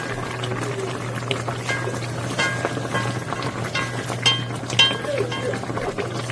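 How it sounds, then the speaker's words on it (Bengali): Broth is ladled over a Korean-style braised sea fish dish, a soft close-up trickle and splash of liquid with small clinks, fairly quiet against a low steady hum. "ঝোল এইভাবে দিয়ে দেবেন উপরে"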